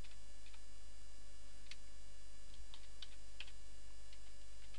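Code is typed on a computer keyboard, soft irregular key clicks in small clusters over a steady electrical hum, with no voice present.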